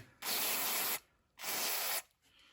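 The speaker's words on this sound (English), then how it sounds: "Give the needle a little more spray here." Two bursts of aerosol spray onto a Yardworks lawnmower carburetor needle, each hissing steadily for under a second with a short pause between, close and fairly loud.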